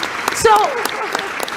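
A conference audience applauds, with steady, dense clapping that fills the room and carries on throughout while a person speaks briefly over it.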